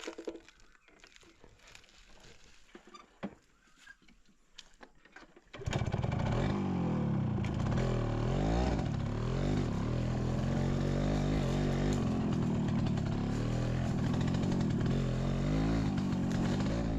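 A motorcycle roars in suddenly after a few seconds of quiet outdoor ambience, then stays loud and close with its engine note rising and falling for the rest of the stretch.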